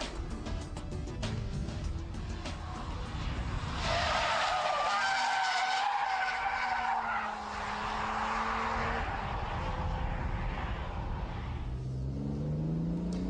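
A car drifts through a corner with loud, sustained tire squeal and skidding over a roaring, revving engine, close and continuous throughout.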